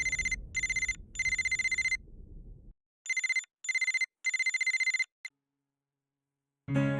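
A telephone rings in repeated electronic trilling bursts, loud and close, with a low rumble under the first rings before it cuts off, then a brief clatter at the end.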